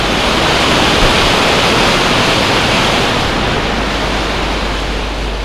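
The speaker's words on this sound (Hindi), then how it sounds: "तेज पानी गिर रहा है, इधर का बहुत तेज साउंड आ रही है वाटर की।" Fast-falling water at a tourist spot in Pilibhit city roars in a loud, close, unbroken broadband rush that fills the whole stretch.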